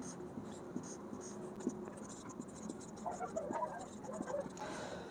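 A pen scratching out a handwritten maths solution on paper, steady close scribbling strokes throughout with faint background hum, no clear speech over it.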